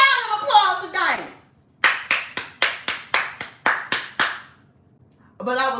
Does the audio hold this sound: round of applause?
yes